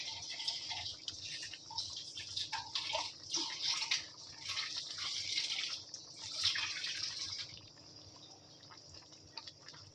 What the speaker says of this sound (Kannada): ಸ್ವಲ್ಪ ನೀರು ಹಾಕೊಂಡು ಮತ್ತೆ ಹಾಕೋತೀನಿ